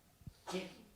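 A single sneeze bursts out at moderate loudness, preceded by a brief sharp intake, set in a quiet room during an institutional business talk.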